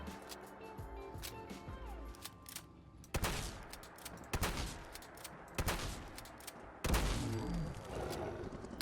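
A Winchester shotgun fires repeatedly at a Deathclaw in Fallout 4, delivering loud, booming blasts spaced a second or so apart over game sounds and music.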